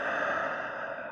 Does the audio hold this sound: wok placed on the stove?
no